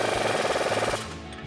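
Ratchet and 22mm socket tightening a bolt on a leveling kit install on a 2022-2024 Toyota Tundra, a quick run of close rapid clicks for about a second, then stopping.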